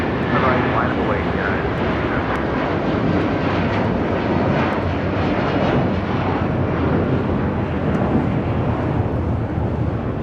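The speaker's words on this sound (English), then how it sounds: "This is United Airlines Flight 1400 taking off to Chicago O'Hare on a 757-300." A United Airlines Boeing 757-300 takes off from LAX, its engines giving a loud, steady broadband roar that fills the whole stretch with gusty wind noise on the microphone and no let-up.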